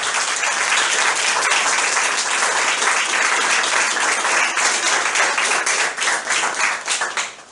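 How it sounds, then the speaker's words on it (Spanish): Audience applause at a lecture on the international crisis and Latin America, for the speaker Juan: dense, steady clapping from a crowd filling the room, loud and sustained before thinning out toward the end. "damos un aplauso a Juan"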